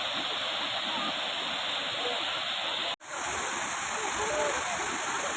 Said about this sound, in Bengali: তোমরা দেখতে পাচ্ছ খুব সুন্দর একটা ঝর্ণা